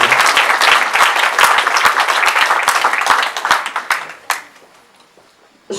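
Hearty audience applause at a rural community hall's fortieth-anniversary celebration, loud and full at first with sharp individual claps, then thinning out and fading to near silence before a brief stir.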